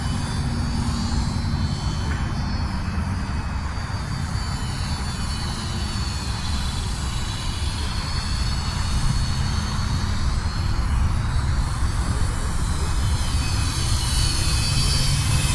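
A Flyzone Fokker Dr1 radio-controlled model airplane engine whines steadily overhead for the whole stretch, a loud buzzing drone with broad hiss, no voices.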